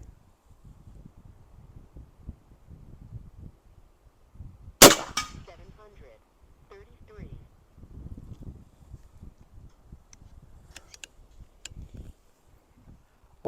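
Single sharp shot from an AEA Element Max .50 caliber air rifle running on a 500 cc air tank, a loud crack midway that stands out against quiet outdoor rustle and faint handling noises.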